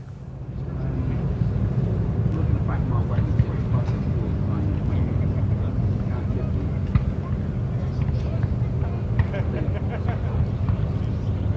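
A P-51D Mustang named Susie, a Merlin-engined warbird, landing at the Duxford airshow, heard as a steady low engine rumble throughout under a continuous announcer's voice.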